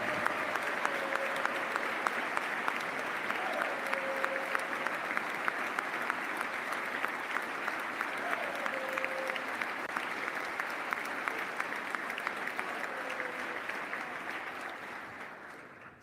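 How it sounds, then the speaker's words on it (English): An audience at a Massachusetts State of the Commonwealth address claps loudly and steadily for about sixteen seconds before the applause fades, with some faint voices mixed in. "Somebody had to get more applause than Max."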